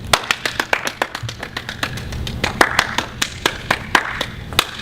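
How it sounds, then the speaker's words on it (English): A small group of people clap their hands for a girl at her family birthday party, the claps sharp and slightly uneven, a steady patter of separate slaps running throughout without any voices. "Can everyone give a nice round of applause for Liberty?"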